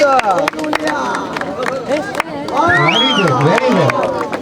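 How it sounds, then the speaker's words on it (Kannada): A crowd at a village fair gives applause for a karate demonstration. Scattered claps ring out amid a busy hubbub of voices, with announcer-like speech and crowd chatter running over it. "ಆ ಸಾಧಕ ಪ್ರದರ್ಶನಕ್ಕೆ ದಯವಿಟ್ಟು ಚಪ್ಪಾಳೆಗಳಾಗಲಿ"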